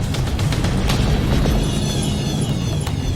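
Missile explosion in the space combat video game Freelancer, a heavy rumbling boom that fills the whole clip with deep low-end roar and scattered crackling debris.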